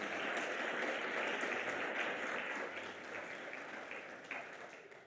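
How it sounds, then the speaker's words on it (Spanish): A church congregation gives a strong round of applause to the Lord during a sermon, a thick, continuous wash of clapping that holds steady and then tapers slightly toward the end. "Dale ese fuerte aplauso al Señor."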